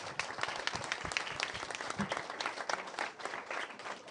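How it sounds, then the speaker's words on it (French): Applause from a studio audience at the close of a participatory television show, steady dense clapping throughout at moderate volume. "Oui, vous pouvez applaudir"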